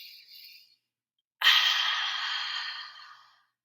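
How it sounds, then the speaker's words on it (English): People in a classroom take a long deep breath together, heard as a soft airy intake, then a pause, then a louder sustained rush of breathing that slowly tapers off. "Let's all take a really deep breath in."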